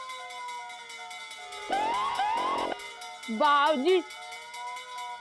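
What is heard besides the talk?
fire brigade siren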